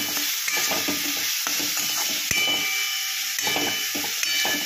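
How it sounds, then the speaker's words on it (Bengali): Shredded cabbage frying with a pinch of asafoetida and sugar crackles and hisses continuously up close, with the utensil repeatedly scraping and knocking against the pan. "এবার এটা ভালো করে ভাজা ভাজা করে নেব।"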